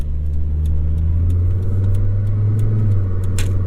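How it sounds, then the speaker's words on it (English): Volvo 850R fitted with a swapped-in C70 T5 engine, a steady loud mid-pitched engine drone with turbo whoosh, close up from inside the car, with a brief rise in hiss near the end. "Lots of turbo noise."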